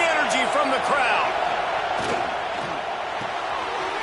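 Stadium crowd noise in a college football video game, a dense, loud roar sustained throughout, with whistles and shouts rising from the mass of voices while a commentator talks over it.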